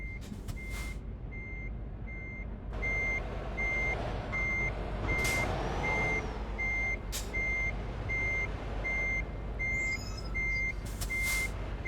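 Reversing truck in Euro Truck Simulator 2 sounds a steady series of evenly spaced high electronic beeps over a low engine idle, with a few short hissy air-brake bursts breaking in.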